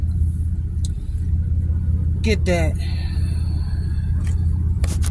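A car engine runs at a steady idle, a low continuous rumble close by, with a person talking over it and a few brief higher chirps.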